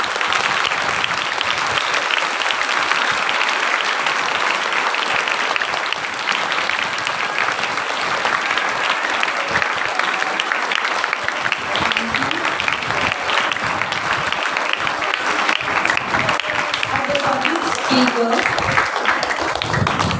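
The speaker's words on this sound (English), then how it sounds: "This needs a big round of applause." Sustained, dense applause from a large audience fills the whole stretch, steady and loud with a broad crowd roar beneath the clapping.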